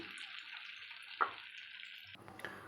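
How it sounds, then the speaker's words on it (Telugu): Water is poured into a pot of horse gram soup on the stove, a faint steady trickle and low sizzle with one brief splash, quiet and close with no talk. "ఫ్రెండ్స్ దీనిలో కొంచెం వాటర్ కూడా యాడ్ చేసుకుంటున్నానండి"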